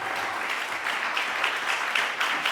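A church congregation claps in a steady, dense wash of applause that holds at an even level throughout, with no cheering standing out.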